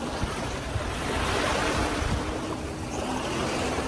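Sea waves break on the shore of a beach on an island, a loud continuous roar of surf with wind buffeting the microphone and no voices.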